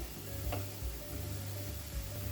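Beans and potato masala cooking in a pan after dry mango powder is mixed in, giving a soft steady sizzle with faint stirring scrapes, close and alone with no talking.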